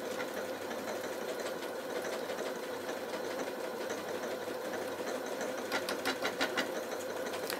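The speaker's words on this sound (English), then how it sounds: "So we're just going to pop that down and again start sewing." A Janome Atelier 9 sewing machine runs steadily at mid speed while sewing decorative stitches, a continuous close whirring hum with faint rhythmic ticking toward the end.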